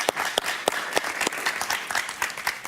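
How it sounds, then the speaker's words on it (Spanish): A studio audience in Miami applauds a guest on a talk show with steady clapping and sharp individual claps standing out, moderately loud and without talk. "Un aplauso para Eduardo, por favor."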